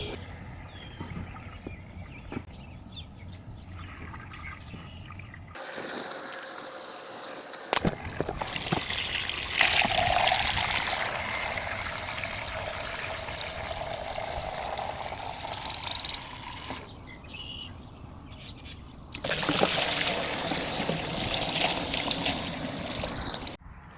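Glyphosate solution being poured into a Milwaukee Switchtank backpack sprayer, a steady splashing trickle of liquid into the tank that runs in bursts with brief pauses and handling noises between fills.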